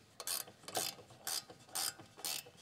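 A 10 mm ratcheting wrench clicks in five quick bursts of sharp metallic ratcheting while working on a Jeep Cherokee rear suspension rebuild, close and loud with short pauses between strokes.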